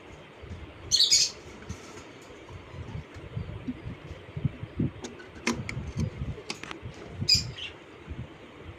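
Several sharp, high squawking cockatiel calls ring out in short bursts in an aviary over a low background murmur, with a few scattered chirps between them.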